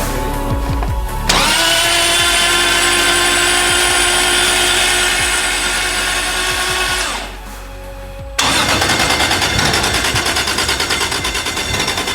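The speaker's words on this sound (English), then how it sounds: "we're gonna spin that thing over, get oil pressure" Drift car engine spun over on the starter with the plugs out to build oil pressure: a loud, sustained mechanical whir for about six seconds, a short pause, then another burst of rhythmic cranking.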